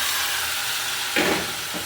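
Tomato dropped into hot oil tempering for rajma masala curry, a brief sudden sizzle flaring up over a steady frying hiss.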